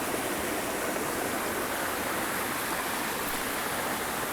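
A small creek waterfall pours steadily, a dense, close rush of water that holds constant throughout with no voices over it.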